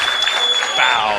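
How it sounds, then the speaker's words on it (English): Home fans at a Healdsburg Prune Packers baseball game clapping in unison, hoping for a strikeout, with a loud announcer talking over the rhythmic crowd applause. "The Packers crowd hoping that this is it as they start the clap"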